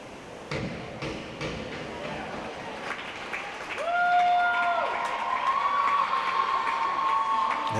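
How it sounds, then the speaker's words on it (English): Crowd at a school swim and dive meet cheers and claps after a dive, noise swelling midway with whistles or horn-like tones over a reverberant pool hall, fairly distant and moderate in level, with a voice talking. "As they say, the crowd goes wild."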